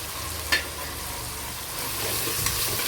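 Homemade ginger garlic paste fries in ghee while ghee rice is stirred in the pan, a steady close sizzle with a sharp clink of the spoon early on.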